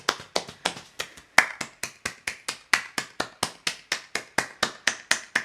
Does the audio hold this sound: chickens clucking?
no